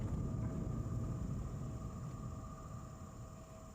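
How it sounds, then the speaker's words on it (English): The tram ride in World of Warcraft TBC Classic gives a steady low mechanical rumble with a faint, even hum above it, droning on without change and slowly fading a little. "Alright, let's make sure we get on the tram."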